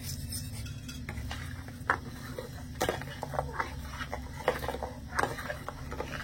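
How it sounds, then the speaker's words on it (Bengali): Sugar is stirred into milk in a pot for dudh puli pitha, with a spoon repeatedly clinking and scraping against the metal over a low murmuring background. "তো এখানে আমি নেড়ে চেড়ে চিনিগুলো খুব ভালোভাবে গলিয়ে নিয়েছি।"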